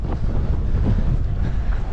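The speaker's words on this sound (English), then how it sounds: "It is windy." Strong wind buffets the microphone in a constant low roar, gusting steadily outdoors near power cables during 50-60 mph winds, with no talk.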